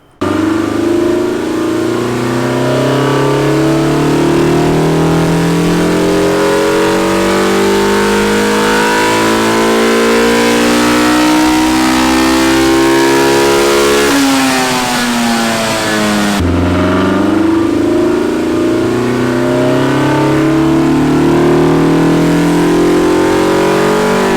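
A Toyota AE86 with a 7AGE engine revs hard on a dyno, loud and continuous, pitch climbing steadily through a long pull, then dropping briefly before rising again.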